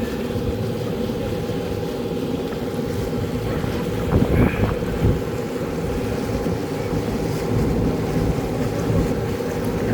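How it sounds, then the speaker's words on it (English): Steady wind roars against the microphone aboard a cruise boat on Loch Lomond, Scotland, with a low engine drone beneath and a brief gust-like bump midway. "Hope you can hear me for this wind."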